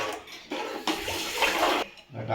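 Water splashes and gushes into a pot for chicken biryani in a few bursts, loud and close, with short pauses between pours.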